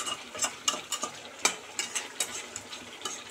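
Chicken curry with yogurt and spices sautéing in a pan, with steady sizzling broken by repeated scraping spoon strokes at an uneven rhythm, close and moderately loud, no voices.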